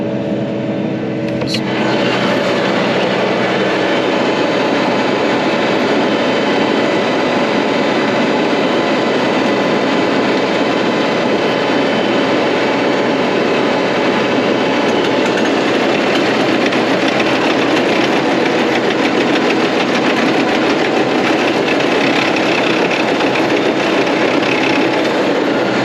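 A tractor engine pulls a power harrow through field soil before drilling, its loud steady drone groaning continuously under load with no break.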